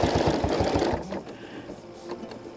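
A domestic home sewing machine stitches a flower appliqué in a loud, close, rapid rhythmic chatter for about a second before stopping, followed by softer handling clicks and faint room noise.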